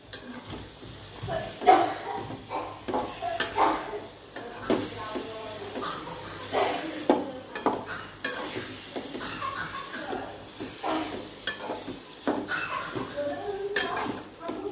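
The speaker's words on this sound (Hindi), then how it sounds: "इसको तेल में फ्राई करना है अच्छी तरह से" Ingredients for lemon pickle frying in hot oil, with a steady sizzle under repeated clinks and scrapes of a spoon stirring in a metal pan; someone speaks intermittently over the cooking.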